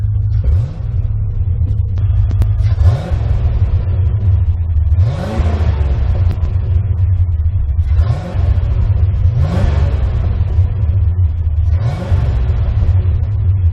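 A 1991 Chevrolet Corvette C4 engine, fitted with a new throttle position sensor and idle control valve, revs repeatedly in loud, rising surges roughly every two seconds over a steady low rumble while driving, close and continuous.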